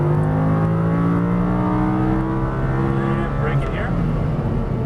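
An Audi R8 powers hard out of a corner on a racing circuit, its engine note climbing steadily in a loud, continuous rising drone with no break.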